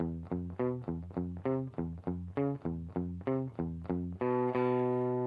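A clean electric guitar with distortion off picks a repeating riff of crisp downstroked notes in a steady rhythm, ending on a sustained ringing chord.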